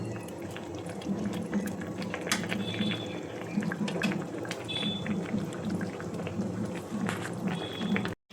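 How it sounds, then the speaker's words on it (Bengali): Fish curry with fried egg bubbles steadily in a pot, a continuous low simmering burble with faint pops, fairly close and with no voices. "এখন আর 5 মিনিট ফুটবে"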